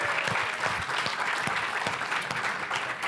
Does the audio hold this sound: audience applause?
yes